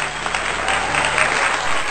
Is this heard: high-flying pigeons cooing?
no